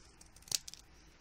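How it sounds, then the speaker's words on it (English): Scissors trimming glitter paper for a craft project: a few quiet, close snips in quick succession, crisp and brief against a soft background. "all I did was I used my scissors and I trimmed around it"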